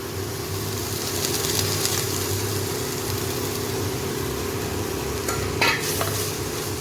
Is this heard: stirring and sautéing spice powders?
yes